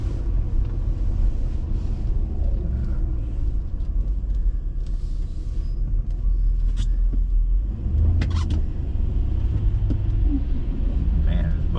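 A city bus moves through Brooklyn traffic, a steady low rumble of engines and road noise close by, with wind buffeting and a few brief sharper knocks over the constant drone.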